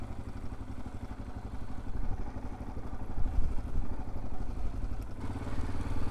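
Yamaha Ténéré motorcycle ridden across beach sand at Praia de Pipa in Rio Grande do Norte, its mid-pitched engine droning steadily and close with some clatter and slight throttle swells throughout.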